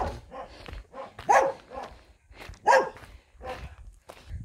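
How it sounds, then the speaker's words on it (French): Dog barking outdoors near a chained spot, a series of sharp, fairly close barks in irregular bursts with short pauses between, clear and without talk. "il va y avoir des aboiements dans peu de temps"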